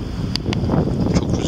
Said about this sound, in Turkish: Çok rüzgar çıktı.